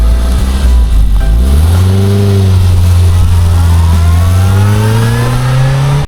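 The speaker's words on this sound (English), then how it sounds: "let's get this car out on the road and see why Mark loves his Mini" Classic Mini on the road, its small engine loud and close, revving up through a gear with rising pitch, dropping briefly, then climbing steadily again; no talking.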